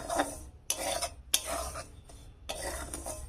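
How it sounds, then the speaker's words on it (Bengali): Semolina and rice flour being stirred and dry-roasted together in a pan over low heat for dud puli, a gritty scraping rasp in repeated strokes with brief pauses between them, close and fairly soft. "দুটো একসাথে নেড়ে চেড়ে হালকা আঁচে এটা আমি ভেজে নেব"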